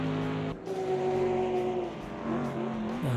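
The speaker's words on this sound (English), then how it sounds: "Porsche and Mercedes going for it now." Porsche and Mercedes race cars in Automobilista 2 climbing the hill at Donington Park, engines droning and shifting pitch as they push hard side by side, steady and close with a brief dip before rising again.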